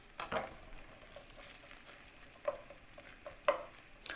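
Sliced onion frying in a small pan, a faint steady sizzle with a few soft stirring knocks and scrapes at scattered moments, close but quiet.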